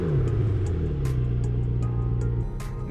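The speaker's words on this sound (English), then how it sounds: "The GT offers an all-new muffler and exhaust system. It actually sounds much deeper than any other one of the McLaren models." A 2020 McLaren GT sports car with a new muffler and exhaust system idles and revs with a deep, steady rumbling drone, close and alone, with a slight rise and fall in engine pitch.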